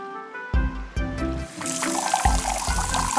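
Cartoon water pours from a tap fixed onto a pipe, a trickling, splashing flow that starts after a few short knocks and carries on steadily.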